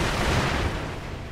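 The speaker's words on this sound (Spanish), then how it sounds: "He malgastado ahí los petardos." Firecrackers burst in the video game Sekiro: Shadows Die Twice, a loud, dense blast of crackling noise that fades slightly over about a second.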